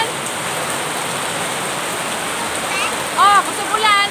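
Heavy rain pouring steadily, a dense broadband hiss throughout, with brief voices near the end.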